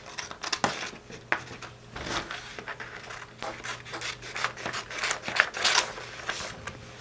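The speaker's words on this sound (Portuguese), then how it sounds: "Vou cortar aqui o molde pra gente cortar no tecido." Paper sewing pattern for elastic-waist shorts being cut with scissors, a series of close, crisp snips and crinkles of paper in irregular rhythm, moderately loud with no talking.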